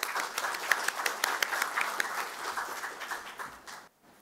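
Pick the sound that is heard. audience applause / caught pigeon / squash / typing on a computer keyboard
audience applause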